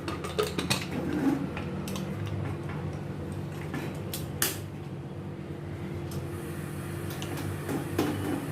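A pressure cooker lid is shut on a gas stove with a series of sharp metallic clicks and clatters, some close and bright, over a faint steady hiss.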